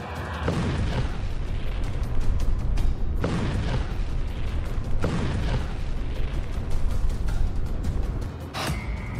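Heavy booming blasts from a Neptune anti-ship missile strike on a warship roll out loud and dense, with several sharp bursts punctuating a continuous rumbling roar.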